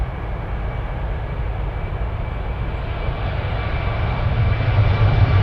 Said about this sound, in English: Trying to locate F-22s, there they are.